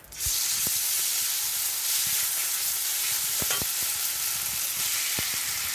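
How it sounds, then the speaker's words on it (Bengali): Chicken pieces frying in hot oil in a wok for chicken and shrimp fried rice, a loud continuous close sizzle with a few sharp utensil knocks, no talk. "কড়াইয়ে আবারও কিছুটা পরিমাণ তেল গরম করে মুরগির মাংসগুলো ভেজে নিতে হবে"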